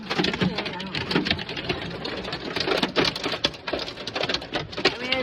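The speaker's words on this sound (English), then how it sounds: "It's really nothing, it's just hail, but it just sucks because it's huge chunks, like golf ball size" Golf-ball-size hail hammers a truck during a storm, a dense continuous patter of hard impacts with scattered louder knocks while a person talks over it.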